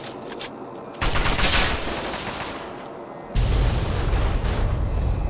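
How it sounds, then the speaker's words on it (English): Loud bursts of rapid gunfire and booming explosions in Fallout 3, with a sudden surge of heavy firing partway through. "Explosions of all kinds."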